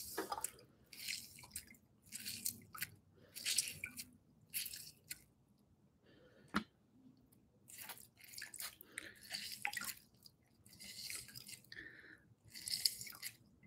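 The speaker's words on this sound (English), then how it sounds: "we're going to squeeze our lemon juice into the" Lemon halves squeezed by hand over a pot of simmering water while preparing artichokes: irregular wet squishes and drips in short bursts, close and fairly quiet, with no talking.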